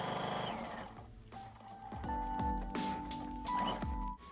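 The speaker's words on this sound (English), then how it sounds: "you are going to be edge stitching along this to completely enclose those raw edges." A sewing machine edge stitching a tote bag seam, its motor starting up into a rapid steady needle chatter with brief slowdowns, close and prominent with no talking.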